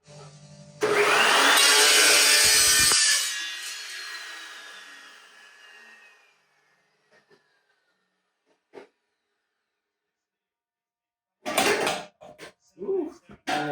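A power cut through the exhaust pipe of a 1970 MG Midget: a loud, harsh burst of about two seconds, then the motor whines down and fades into quiet, followed later by a few scattered knocks and handling noises.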